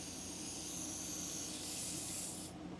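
Air purging from a hose through a loosened ball valve while connecting a trash-picked Amana fridge, a steady close hiss of escaping gas that holds constant throughout, then shifts in tone near the end.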